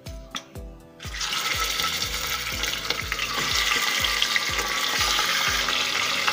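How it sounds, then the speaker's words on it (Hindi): Half a kilo of washed mutton frying in a pot with whole spices, a loud sizzle that bursts in after a few early clanks, with a spoon scraping and stirring in a steady rhythm close by. "हम इसे अच्छे से भून देते हैं।"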